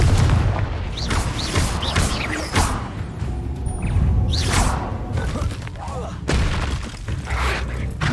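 In Hogwarts Legacy spell combat, the Confringo fire spell sets off heavy booms and crashing impacts that repeat rapidly over a dense, noisy mix of game effects.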